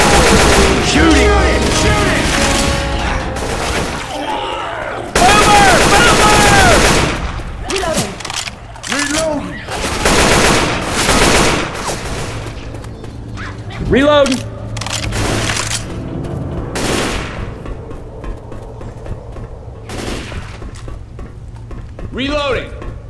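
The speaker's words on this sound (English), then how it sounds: "Shooting!" Bursts of automatic and single gunfire from the zombie shooter game Left 4 Dead 2, loud and dense, with cracking shots layered over game effects and chaotic background noise.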